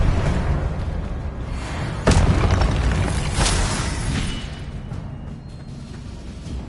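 Spell blasts in the Hogwarts Legacy video game, a dense, loud burst of booming energy with a sharp impact near two seconds, then a rumbling wash that slowly fades.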